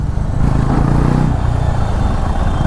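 Bajaj Pulsar NS400Z motorcycle under hard braking, with a steady loud engine and road rumble close by as speed drops, and no voices.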